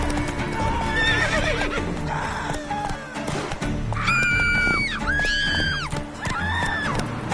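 Roach the horse from The Witcher 3 galloping with rapid clip-clop hoofbeats, then letting out three loud, close whinnies in quick succession, amid game combat noise.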